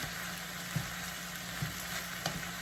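Cabbage for an egg roll bowl fries in an overfilled skillet, giving a soft, even sizzle with a few faint taps from stirring, heard close but quietly with no talking.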